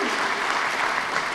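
A crowd at a regional election rally in Catanzaro, Italy, applauds police and carabinieri. The clapping is dense and continuous, filling the whole moment at an even level.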